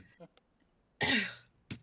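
Person clears their throat with a harsh rasping cough, one strong burst followed by a shorter second one, close and fairly quiet amid near silence with a faint murmur before.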